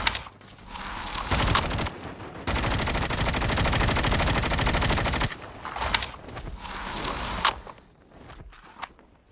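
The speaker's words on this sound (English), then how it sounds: "If you get this shotgun down, this is such a nasty shotgun to use." Gunfire from a shotgun in a Call of Duty Mobile battle royale match comes as close, loud bursts and a long sustained volley, with scattered single blasts and footsteps between them.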